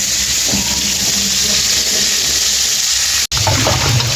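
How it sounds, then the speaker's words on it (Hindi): Water from boiled chicken is strained off in a kitchen, a steady rushing, splashing pour that runs throughout at close range, briefly cut off near the end, with no voices. "ये देखो अब इसको हमने छान लेना हुआ"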